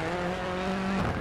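Rally cars in the racing game DiRT 4 roar close together during an overtake, a strained high engine whine with shifting pitch and a brief tyre scrub near the end.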